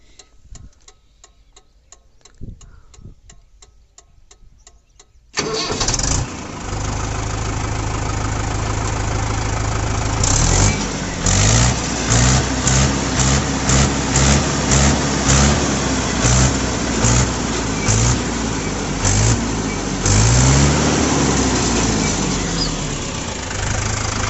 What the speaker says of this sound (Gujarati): તો ભાઈ હવે સાંભળીશું આપણે મહિન્દ્રા પાંચસો પંચોતેરનો અવાજ કઈ રીતનો છે